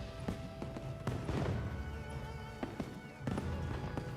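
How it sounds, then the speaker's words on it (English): Fireworks from the Sakura tide event in the Monster Hunter video game, a run of sharp pops and bursts at irregular intervals over a low rumbling game background. "why do I hear fireworks?"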